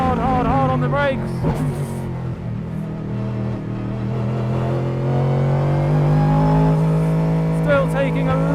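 Onboard a Ford Mustang GT3 race car on a wet track, the V8 engine roars and climbs through gears with rising pitch, loud and close, while a driver talks over it.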